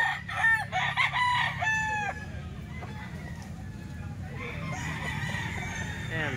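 On a wet, rainy farm, Boston Roundhead roosters let out a couple of loud crows in quick succession, then fainter calls carry over a steady low background rumble.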